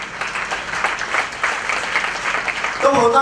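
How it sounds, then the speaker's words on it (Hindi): A large audience claps at a gathering, a continuous, fairly loud wash of applause that swells in waves. A voice breaks in near the end. "एक बार जबरदस्त तालियां चाहता हूं"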